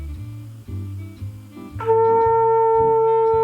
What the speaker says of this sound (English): the flute becomes shorter, and we go up to the next note, which is an A.